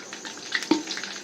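Cumin seeds frying in a hot pan on a rainy-day home kitchen, a short burst of crackling sizzle with small pops, close and fairly quiet.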